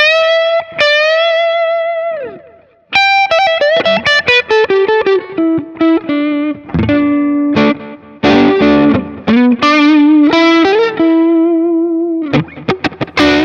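An emotional lead line on electric guitar, driven through a TC Electronic Dark Matter distortion pedal, with long sustained bent notes, vibrato and bursts of fast phrases, loud and close with brief gaps between phrases.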